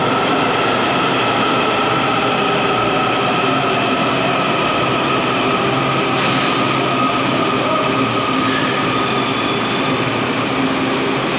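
Washington DC Metro Red Line subway train riding near Union Station, a loud steady roar of wheels on rail from inside the car with faint squeals and rumbling throughout.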